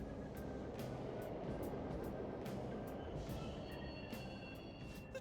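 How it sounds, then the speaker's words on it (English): Trains run through a tunnel in Persona 5 Royal, heard as a faint, steady rushing rumble with repeated light clicks and rattles on top, distant and unbroken. "The trains are totally running."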